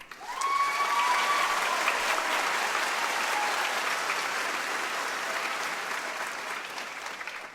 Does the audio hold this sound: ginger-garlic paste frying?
no